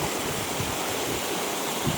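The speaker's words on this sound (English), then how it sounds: "This is the top of the waterfall." Waterfall beneath a red gum tree in Australia, a steady dense rush of falling water heard close up, constant and broadband with no voices.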